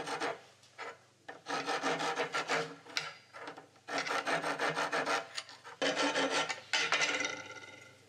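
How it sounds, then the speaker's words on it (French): A metal file rasps burrs off the back of a flared copper pipe fitting in repeated strokes, each a loud, close scraping burst with short pauses between, and no talking. "Nous allons à l'arrière passer la lime pour enlever toutes ces bavures."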